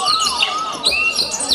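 Several small birds chirp and tweet in quick, high, overlapping calls with sweeping whistled notes, fairly close and steady throughout, with no talking.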